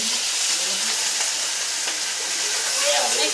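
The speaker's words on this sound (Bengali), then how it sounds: "কুমড়োটা দিলাম, পুঁই শাকটাও একসঙ্গে কিন্তু ভেজে নেবো ভালো করে" Pumpkin and malabar spinach frying together in a pan, a continuous bright hissing sizzle, fairly loud and even throughout.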